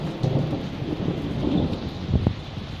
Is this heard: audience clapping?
no